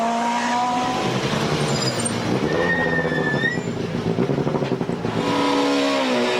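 A rally car driven hard on the opening special stage of the 2010 Rallye des Canaries, engine roaring and revving continuously up close, with gear changes and brief tyre squeal.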